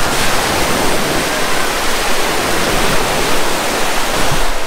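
Sea waves rushing onto a beach on Ko Lan, Thailand: a loud, steady broadband roar of surf, close by and without pause, with no voices.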